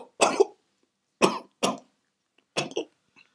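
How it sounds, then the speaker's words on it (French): A man coughs alone at close range: one harsh double cough, then two single coughs, then another double cough after a short pause. "tu as cette toux depuis quelque temps"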